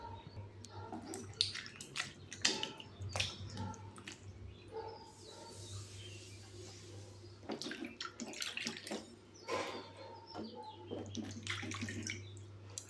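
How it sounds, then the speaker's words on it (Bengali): Mutton pieces being washed by hand in running water, with splashing, dripping and squishing over a steady tap hum, close and continuous with irregular bursts. "মটনটাকে ভালো করে বেশ জল দিয়ে ধুয়ে পরিষ্কার করে নেব"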